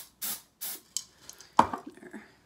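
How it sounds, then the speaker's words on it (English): Two short hissing bursts of Design Master Sparkle Spray glitter aerosol onto a silk flower bouquet, close by, followed by faint rustling and light handling noises. "Now I'm gonna hit it with the, of course, Design Master Sparkle Spray"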